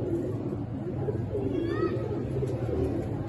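Kasuri pigeons coo softly in a loft in Lahore. Low, rolling coos repeat under a steady background hum.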